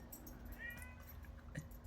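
A black cat gives a faint, brief meow in a quiet indoor room, heard once and distant.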